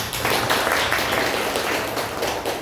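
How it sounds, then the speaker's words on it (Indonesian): A classroom group claps for two students, Cynthia and Kesia, after a mathematics lesson on histograms; the applause is a brief, continuous patter that fades a little toward the end. "beri dulu tepuk tangan untuk Cynthia dan Kesia"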